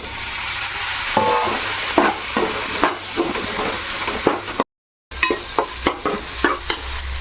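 Tomatoes and green chillies fry in a pan for paneer pulao, a close, steady sizzle punctuated by repeated scraping stirs of a spoon, with a brief silent gap midway.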